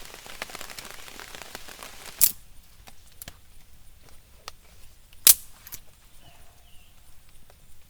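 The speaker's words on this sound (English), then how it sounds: "Well, the rain's starting to pick up." Rain falling around a lean-to campsite, a light patter of drops with a few sharp close taps and knocks standing out against quiet surroundings.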